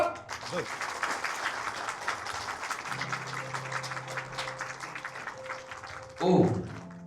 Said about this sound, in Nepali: ताली बजाइदिनुहोस् त